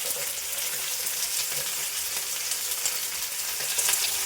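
Mackerel fries in hot coconut oil with curry leaves, giving a dense, steady, close sizzle that hisses evenly throughout without pause or speech.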